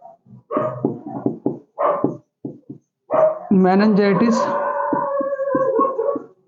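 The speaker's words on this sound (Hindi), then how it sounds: "बहुत बदतमीज कुत्ता" An unruly dog barks in short yips, then lets out a long, rising howl, close and loud, heard alongside a voice speaking in Hindi.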